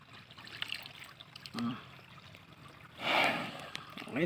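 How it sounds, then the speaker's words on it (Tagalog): A thirsty, heavily pregnant cow, tied up with nothing to eat, drinks water: a short, close burst of wet slurping and snorting stands out against quiet background noise, with a faint brief sound just before. "Dami niyang nainom na tubig."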